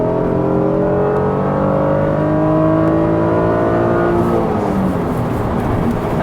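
A Honda NSX engine revs hard from inside the car as VTEC engages, its loud rising tone climbing steadily for about four seconds before dropping on a downshift, with no talking.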